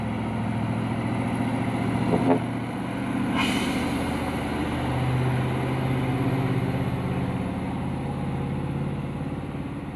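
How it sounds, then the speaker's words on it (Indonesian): Fuso truck labouring up the steep Bukit Kodok climb, its engine a steady low drone that strains without letup, with a brief hiss like an air brake partway through. "Inilah truk fusonya teman-temanku yang tidak kuat menanjak di tanjakan"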